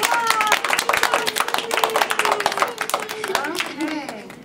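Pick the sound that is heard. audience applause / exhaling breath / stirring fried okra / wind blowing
audience applause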